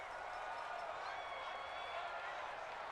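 Crowd at a Lions vs Cowboys football game in a stadium roars steadily before a big third down in a close game late in the fourth quarter; a dense, continuous wash of cheering with no breaks.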